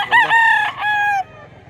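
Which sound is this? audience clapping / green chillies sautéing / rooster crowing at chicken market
rooster crowing at chicken market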